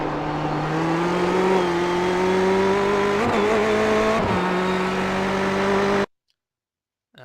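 Ferrari 488 GTE engine in iRacing at Bathurst, a loud steady high-pitched drone that climbs through the revs with two brief gear-change dips, then cuts to silence near the end.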